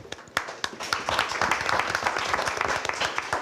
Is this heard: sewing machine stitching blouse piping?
no